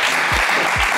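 A studio audience on a French TV game show applauds, a dense, brief burst of clapping filling the room.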